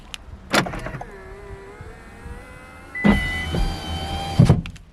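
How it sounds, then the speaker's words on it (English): Car power windows driven from the key fob whir down and back up in two separate runs, each a steady close motor hum lasting a second or two and ending in a soft thunk. "power window up and down with transmit"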